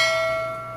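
A single bright notification bell chime rings out clearly and alone, its tone sustaining and slowly fading over under a second.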